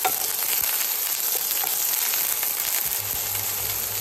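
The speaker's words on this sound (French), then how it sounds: "Je fais d'abord bien revenir mes oignons." Onions frying in oil in a hot pan, a dense, steady crackling sizzle close by with no talk.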